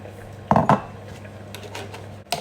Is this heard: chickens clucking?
no